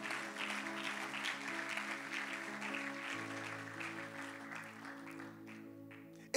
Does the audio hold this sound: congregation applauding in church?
yes